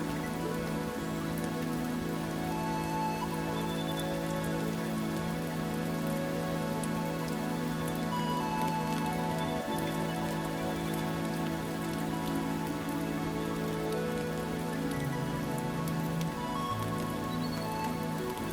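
Steady rain falls without pause, a dense even patter on surfaces close by, with no voices.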